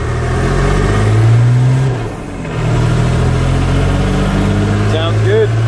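A 1990 Ford F250 pickup with a Cummins 5.9L diesel and manual gearbox drives along a highway, its engine drone and road rumble steady and loud from inside the cab, dipping briefly during a gear change.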